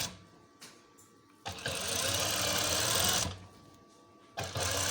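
Sewing machine stitching lace along a straight line, bursts of fast, loud needle clatter separated by quiet pauses, starting and stopping three times, close by with no talking.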